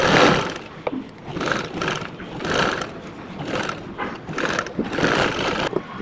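A sewing machine stitches piping around a kameez neckline with a close mechanical whir that runs in short pulsing bursts, speeding up and easing off between runs.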